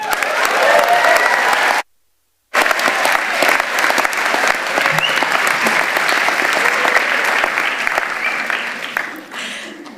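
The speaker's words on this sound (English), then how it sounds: "thank you, audience, for that great round of applause" Sustained applause from a large audience at a university graduation ceremony, dense and steady, briefly cut out near the start, then continuing before tapering off at the end.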